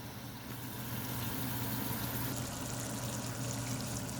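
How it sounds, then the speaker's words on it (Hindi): Water pouring into a pan of masala while desi chicken pulao cooks, a steady close rush of liquid with a sizzling hiss throughout and no voices. "थोड़ा सा पानी ऐड कर लें"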